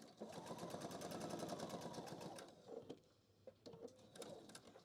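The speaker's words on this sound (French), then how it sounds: "Je vais coudre juste le bas en fait." A sewing machine stitching the bottom seam of a fabric handbag organiser runs in a fast, rhythmic close-up clatter, then slows and stops, followed by a few soft handling clicks, all fairly quiet.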